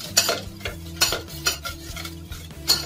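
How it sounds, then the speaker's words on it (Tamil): A utensil stirring beetroot juice into a coconut oil mixture for homemade herbal soap, making rhythmic close scraping strokes against the bowl about twice a second over a low steady background hum, with no speech. "கொஞ்சம் கொஞ்சமா ஆட் பண்ணி நம்ம அப்படியே மிக்ஸ் பண்ணணும்."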